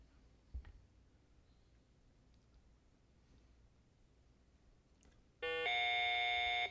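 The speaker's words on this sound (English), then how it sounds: "you got it in just before the buzzer" High school quiz bowl timer buzzer sounds once near the end, a loud sustained electronic tone cutting off abruptly after a quiet room with a faint knock earlier.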